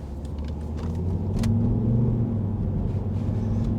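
A 2011 Volvo XC60 with a 2.0 D4 diesel and Aisin gearbox drives along, its cabin filled with a steady low engine rumble and road noise that swells slightly midway, with no voices.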